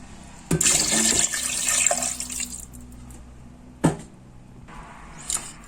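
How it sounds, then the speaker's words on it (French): Water poured into a cooking pot over pieces of hard smoked chicken, a short splashing gush that fades out, followed by a couple of brief knocks and clinks, no speech. "Donc, je verse mon eau."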